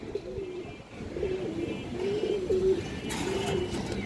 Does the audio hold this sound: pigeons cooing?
yes